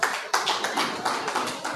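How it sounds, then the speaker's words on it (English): Audience at an Anglo-Indian Association awards ceremony applauding, a brief close round of steady clapping with regular pulses and no talking over it. "We could hear a louder round of applause, please."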